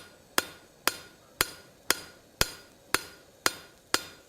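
Hammer blows texturing a hand-forged steel spatula handle for a broad, rocky finish: eight sharp, evenly spaced metallic strikes about half a second apart, close and clear with nothing else heard.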